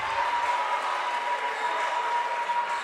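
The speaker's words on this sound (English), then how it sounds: "You can hear the Lady Hurricanes cheering for Maber and Deloach to get their hands on the ball and get in the scoring column." Crowd at a Louisburg College basketball game cheers for the Lady Hurricanes, a steady, dense roar of voices and applause filling the gym without pause.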